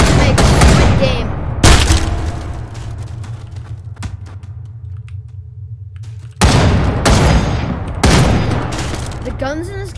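Video game gunfire: loud, close bursts of rapid automatic shots in several volleys, separated by a quieter stretch of lingering echo and low rumble.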